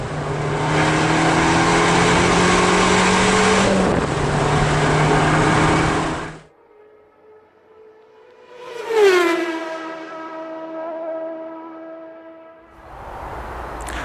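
Abarth 695 Rivale engine revving, a loud sustained roar that cuts off sharply, then a second rising rev with a harmonic whine that holds and fades, heard up close with no talk.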